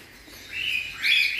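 Cockatiel chicks from a brood of six with their parent pair give thin, rising high-pitched chirps and squeaks close by, growing louder toward the end over faint background noise, with no talking.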